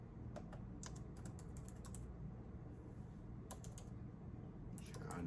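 Keyboard keys are typed in short clustered bursts of quick taps over a steady low background hum, fairly close and moderately quiet, with pauses between runs.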